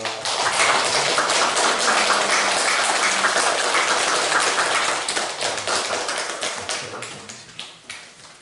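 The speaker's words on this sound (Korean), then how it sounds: "박수하겠습니다." A church congregation applauds during an Easter Sunday service with baptisms, a steady crackle of many hands clapping for several seconds before thinning into scattered, fading claps.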